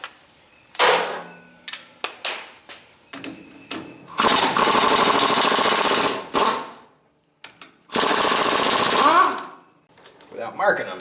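A power tool runs in loud, buzzing bursts during the teardown of a Ford 9 inch axle center section, with long steady runs broken by short stops and clicks.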